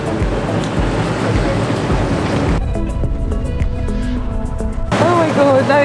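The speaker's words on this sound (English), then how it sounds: "now it's so windy" Strong wind roars across an exposed Donegal coastline, a loud, constant buffeting rush that fills the whole stretch and briefly gives way to a thinner, whistling tone before surging back.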